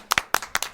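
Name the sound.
audience clapping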